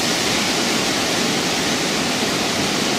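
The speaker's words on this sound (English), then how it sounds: "So this would be the height of the hurricane." Hurricane Matthew at its height near Jacksonville Beach, a dense, steady roar of wind and driving rain that fills the whole stretch without letup, loud and close.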